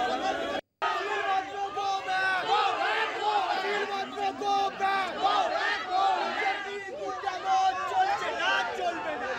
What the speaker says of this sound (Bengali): শিলভদ্র দত্ত, তাকে লক্ষ্য করে গো ব্যাক স্লোগান দেওয়া হচ্ছে